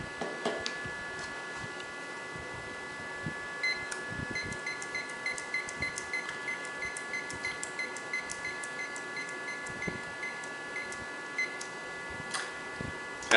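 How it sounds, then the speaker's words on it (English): Steady ticking from a lab timer set for 20 minutes during an assay incubation, with regular faint ticks and occasional beeps over a constant electronic hum. "We now set our timer for 20 minutes."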